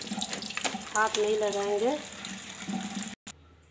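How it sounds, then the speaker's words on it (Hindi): Food is rubbed and washed under running tap water in a sink, a steady splashing stream with a rising filling tone, while someone speaks over it. "इसी तरह हम रगड़ रगड़ के अच्छा से पानी में दे के करीब 5 मिनट तक इसे धोएंगे"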